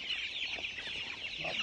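Chickens on a chicken farm clucking, a dense, steady chorus of many birds close by, with no talk over them.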